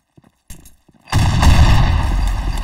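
Gunfire in a shooting video game: a few sparse clicks and a short burst, then a loud sustained barrage of booming shots and blasts that continues to the end, with no voices.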